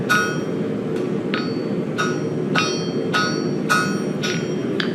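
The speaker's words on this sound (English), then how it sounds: "I'm going to knock these corners down just a little bit." A hammer knocks down the corners of a forge-welded steel blade core, about a dozen sharp ringing metallic strikes at an irregular pace over a constant low forge roar.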